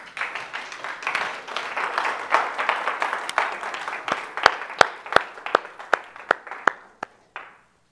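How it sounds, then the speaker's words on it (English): A church congregation claps together during a sermon, starting as a dense ragged patter and thinning into sharp, evenly spaced unison claps before stopping. "Can you stand to your feet and clap your hands with me?"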